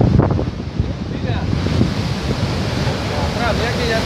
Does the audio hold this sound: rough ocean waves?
yes